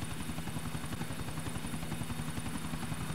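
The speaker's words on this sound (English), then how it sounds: "Dammi l'altro chopper!" Helicopter in Grand Theft Auto IV, a steady rapid rotor chop with a constant engine drone, continuous and even throughout, with no talk.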